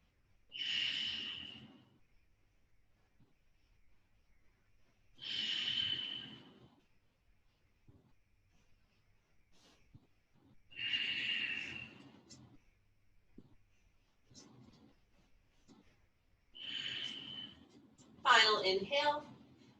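Slow, deep breaths during a yoga side compression, each long, airy exhale spaced about five seconds apart, close and quiet in an otherwise still room, ending in a shakier sighing breath.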